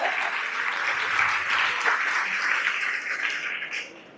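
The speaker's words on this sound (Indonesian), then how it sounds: "Boleh tepuk tangannya dulu, Bapak." Audience at a government talk at a university in Karawang applauding, a full, steady round of clapping that swells in the middle and tapers off near the end.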